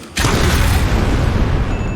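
A propane tank blows up among a crowd of zombies in Dying Light, giving one sudden loud boom that rolls into a long, heavy rumble lasting a couple of seconds.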